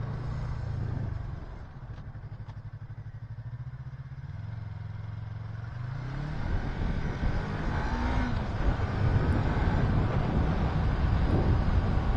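Motorcycle riding along a countryside road, its engine a steady low drone that shifts and rises as it picks up speed, with wind rushing over the microphone; close and continuous, with no talk.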